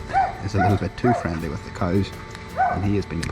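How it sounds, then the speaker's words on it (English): A small farm dog shut in its kennel barks and yips in quick bursts in the background while someone talks over it close by. "I don't know if you can hear the little dog in the background."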